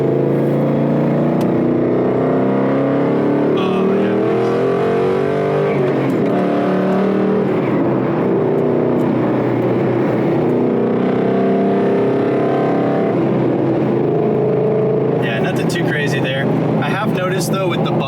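A Ford Mustang Boss 302 with a 5.0 engine, aftermarket manifold and MT-82 manual gearbox pulls hard on a highway, its loud, steady engine roar rising and shifting in pitch throughout, heard from close inside the car.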